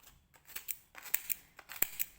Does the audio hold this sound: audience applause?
no